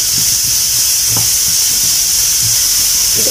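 Onion and capsicum stir-fried in a pan for a butter mushroom masala, a constant loud hiss of sizzling with light scrapes and knocks of stirring scattered through it.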